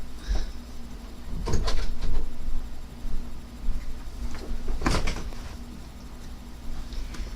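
Door swinging in the wind, giving two brief knocks or creaks against a steady low background hum, otherwise quiet.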